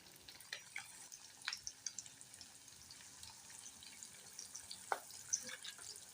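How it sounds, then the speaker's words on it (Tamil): Chicken frying in oil over a medium flame, a faint, steady sizzle with scattered crackles and small pops, quiet and without talk. "கொஞ்சம் மிதமான தீயில வச்சு நம்ம இதை கொஞ்சம் ஃப்ரை பண்ணி எடுத்துக்கலாங்க"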